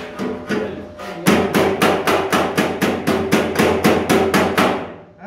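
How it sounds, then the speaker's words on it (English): Loud, evenly spaced hammer blows ring out, about a dozen sharp metallic strikes in a steady rhythm after a quieter opening, close by and unaccompanied by speech. "Some fucker keeps hammering."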